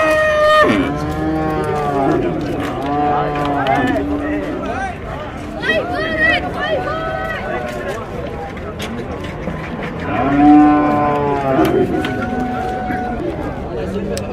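Calves and other cattle at an Iraqi livestock market moo loudly and repeatedly, several overlapping calls close by over a constant crowd hubbub with people talking.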